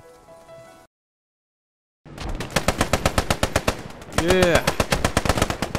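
World War II artillery and gunfire in Post Scriptum: after a brief stretch of silence, loud, rapid machine-gun bursts hammer away, joined by a rising mechanical whine, with a voice speaking briefly.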